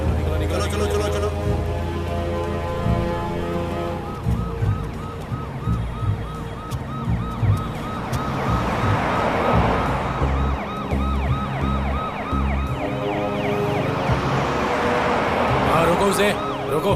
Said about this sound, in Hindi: लेकिन सर वो तो एम्बुलेंस है।